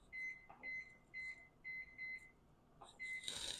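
A kitchen timer at a stove gives a steady series of short electronic beeps, about six evenly spaced tones as buttons are pressed, with faint clicks of the keys and a brief noisy burst at the end.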